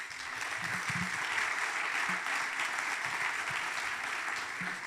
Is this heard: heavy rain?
no